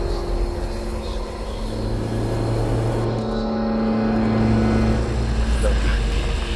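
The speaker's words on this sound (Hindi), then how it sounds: "वो गाड़ी तेज स्पीड से भगाता है।" A car engine drones steadily at speed under a broad wash of road and wind noise, loud and continuous throughout.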